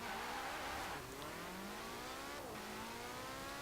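A 2019 Porsche 911 Carrera S engine in Forza Horizon 4 drives steadily, its loud, continuous tone rising through the gears, with a brief shift near the start and another later on, and no voices.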